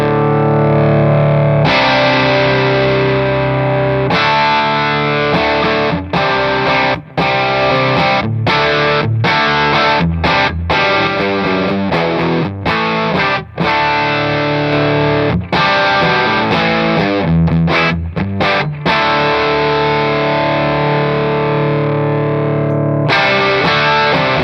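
An electric guitar plays through a transparent overdrive pedal with the gain turned up high. Loud, sustained distorted chords and riffs ring out continuously, broken by brief pauses, with no talking.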